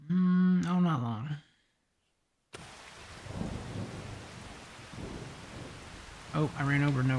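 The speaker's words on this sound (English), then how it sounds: "Oh, there's the rain." Rain and thunder in the Farming Simulator 25 video game, a steady hiss of rainfall with low rolling rumbles that begin abruptly after a short silence, framed by a voice talking before and after.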